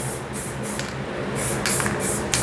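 Repeated hissing bursts of a spray paint can, several short sprays in a row, close and steady with no talking.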